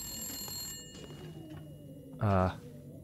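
A telephone bell rings in one short, loud electronic burst over a quiet background hum, in The Long Dark: Wintermute.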